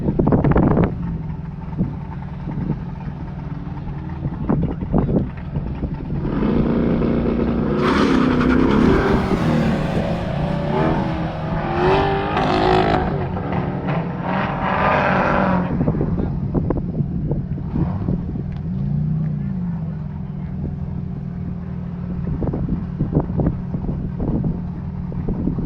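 A big green Chevrolet Camaro race car makes a timed run on an airfield course, its engine roaring steadily with rising and falling surges while wind buffets the microphone and a voice speaks briefly partway through.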